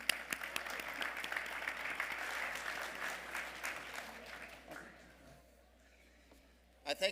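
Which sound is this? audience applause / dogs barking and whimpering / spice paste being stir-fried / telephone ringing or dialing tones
audience applause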